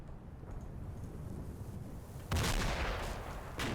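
Mortar and artillery shelling in the game Combat Mission: Battle for Normandy: a low distant rumble, then a sudden loud nearby blast that rolls on, followed by another impact moments later.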